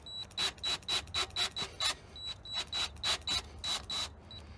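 A tool cuts into a metal bolt in bursts: about a dozen short, evenly spaced whirring grinds with a faint high whine, each roughly a quarter second long, close and fairly quiet, separated by brief pauses.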